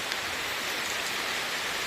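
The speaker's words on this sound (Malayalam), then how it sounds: "നല്ല മഴയും ഒരു രക്ഷയില്ല" Heavy rain pours in a dense, steady hiss, with no voices or other sounds.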